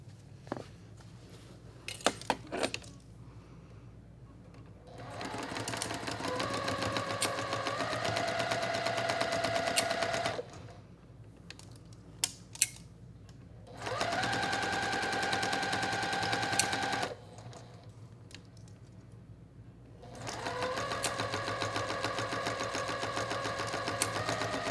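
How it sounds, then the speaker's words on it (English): A sewing machine stitches a seam on a small quilt block in three long rapid bursts, each lasting a few seconds, separated by quieter pauses with light handling clicks. "I'm going to sew down the seam"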